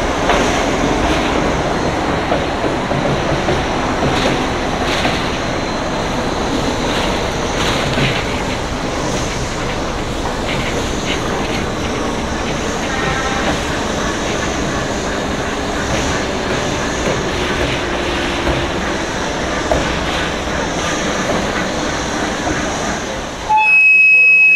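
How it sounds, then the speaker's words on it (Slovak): A locomotive powered by a turbocharged V12 engine runs with a loud, steady droning roar and broadband rumble that continues throughout, under a narrating voice. "Lokomotívy v tomto prípade poháňa preplňovaný 12-valcový motor s valcami do V."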